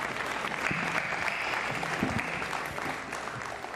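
An audience at a boxing press conference claps steadily for a few seconds, dense applause with a few faint whoops, moderately loud and continuous.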